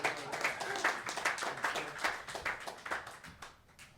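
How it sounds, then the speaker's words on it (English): An audience at a comedy performance applauds, a continuous close patter of many clapping hands that gradually thins and fades toward the end. "Let's give him a round of applause."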